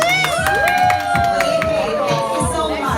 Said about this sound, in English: One round of applause again.